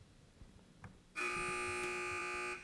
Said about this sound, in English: wait for the buzzer. Don't buzz in early.